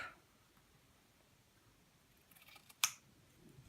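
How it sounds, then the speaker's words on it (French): A single quiet snip of scissors cuts through quilt binding fabric near the end, preceded by faint rustling of cloth in a quiet room. "Donc je peux couper facilement ici. Donc je coupe."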